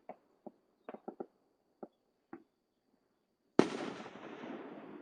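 Fireworks in Tennessee: scattered faint pops and crackles, then a sudden booming blast that rumbles and decays, distant and echoing.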